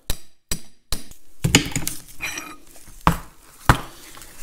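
Sharp metallic hammer blows on a brass drift driving an old leather-lipped seal out of a Caterpillar D2 diesel engine into a socket, several distinct strikes spaced irregularly with ringing clinks, close and loud.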